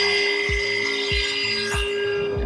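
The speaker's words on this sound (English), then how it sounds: "Dremel cutting is done" A Dremel with a small grinding wheel cuts into a handbrake part, a steady high motor whine broken by rhythmic low bumps about every half second as the wheel bites into the piece, close and alone.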